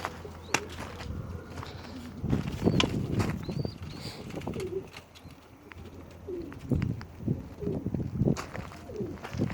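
Domestic pigeons coo repeatedly in a loft, soft throaty calls overlapping with wing flutters and scuffling, close by and fairly quiet, with no talking.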